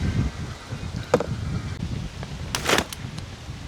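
Strong wind blowing outdoors in the Philippines, gusting rumble buffeting the microphone with brief rustling bursts, close and uneven, with no clear talk.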